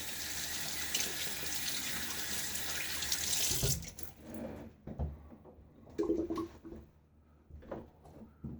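Tap water pours steadily into a sink to rinse shaving-soap lather after a wet shave, a loud continuous rush that cuts off partway, followed by scattered splashes and drips.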